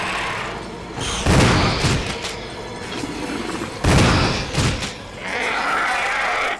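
Two heavy, booming shotgun blasts in Resident Evil HD Remaster, a few seconds apart, loud and close over dense game ambience, with a fainter rustling tail after each shot.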